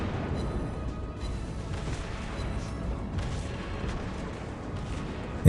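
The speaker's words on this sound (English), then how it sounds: "here's some burst damage of me firing my torpedoes and all my main guns at the South Carolina" Naval guns and torpedoes fire in World of Warships Blitz, a steady wash of muffled booming and rumbling gunfire that ends with one sudden, louder close blast.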